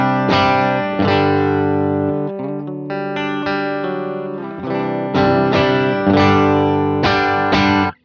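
Single coil electric guitar through an AC30-style amp, with treble dialed back for a darker tone, strummed chords ringing out loudly and continuously with a slightly overdriven, thick character, no talking.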